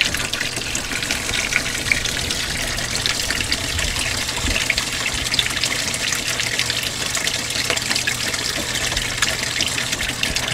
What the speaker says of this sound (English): the water falling in there, or, you know, going in the machine at this point